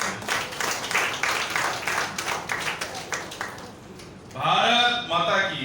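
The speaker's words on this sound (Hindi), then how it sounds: "आप सब एक बार अपने लिए, एक दूसरे के लिए जोरदार तालियों से अभिनंदन करते हैं।" Applause from attendees at a Bharat Tibet Sahyog Manch national council meeting in Delhi, dense clapping filling the first four seconds, then giving way to a person speaking loudly near the end.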